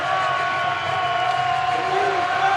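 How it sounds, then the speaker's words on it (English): Arena football crowd at MVP Arena roaring steadily during an Oceanside Bombers vs Albany Firebirds game, a dense sustained wall of cheering with no breaks. "the crowd's getting hot inside MVP Arena and getting loud"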